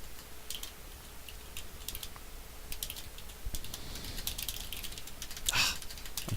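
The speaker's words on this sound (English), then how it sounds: "I'm trying to type so fast and I'm messing up" Fast typing on a computer keyboard during a web coding lesson, with quick irregular bursts of light key clicks close by, a few louder taps near the end, and no talk.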